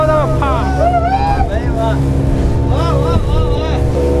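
A motorboat engine drones steadily and loudly throughout at speed on the sea at Dwarka, with people talking over the constant hum.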